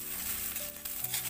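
Chopped onions frying in oil make a soft, steady hiss for a moment, fairly faint and close, with a brief clatter at the end and no voices.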